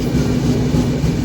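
The Tirupati–Kakinada Express with LHB coaches runs steadily, giving a low, continuous rolling rumble from inside the train with no voices.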